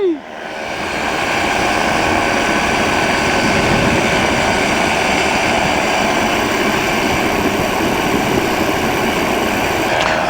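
A microlight aircraft in flight at an air show, its engine running loud and steady with a constant droning roar and wind rush, close and continuous throughout with no talk.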